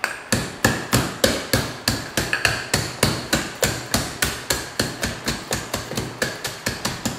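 Rapid series of sharp hammer blows packing a six-inch firework shell of shells, about three strikes per second, close and loud with no talking.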